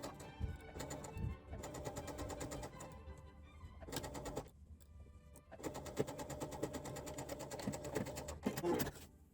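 A sewing machine stitches the side seam of a doll blouse in quiet, intermittent runs of fast rhythmic clatter, with brief stops between them.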